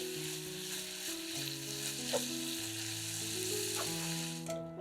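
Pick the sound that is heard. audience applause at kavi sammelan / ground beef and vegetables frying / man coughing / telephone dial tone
ground beef and vegetables frying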